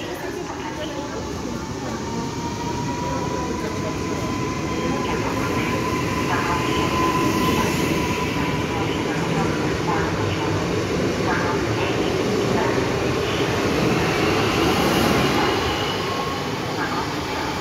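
A passenger train pulls away from the platform at Sopot station, bound for Gdynia, with a steady, loud rolling rumble and traction whine building throughout and faint wheel clatter underneath.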